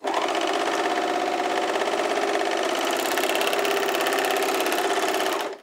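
An Elna sewing machine stitches continuously at steady speed, a loud close mechanical whir with rapid even needle pulses that runs unbroken almost to the end before stopping.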